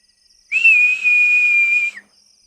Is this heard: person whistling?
yes